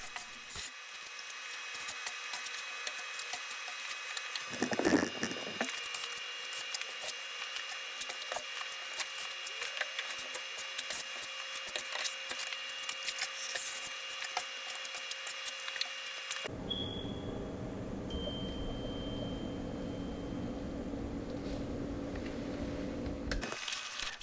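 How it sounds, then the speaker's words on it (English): Steady, close rasping of sandpaper scrubbing a coat of fairing compound on a six-panel door, continuing in long strokes with a brief louder bump partway through. "Now we're sanding that third coat."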